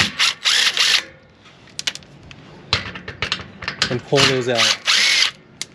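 Short bursts from an impact wrench backing out 10 mm bolts holding the plastic piece of a Body Armor 4x4 Hiline bumper install, several loud whirring runs spread through the clip with someone talking between them.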